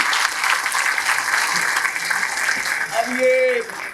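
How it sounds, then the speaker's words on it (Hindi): Audience applause at a law and justice speech event, loud and sustained clapping across the whole span, with a voice briefly rising under it near the end. "तो जोरदार ताली बजा दो।"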